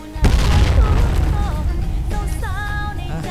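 A loud burst of gunfire in a shooting video game, a close, booming blast followed by ringing, echoing tails, with a voice talking under it.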